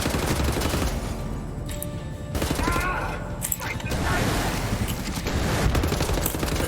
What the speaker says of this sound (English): Hold on, let me shoot this Nazi.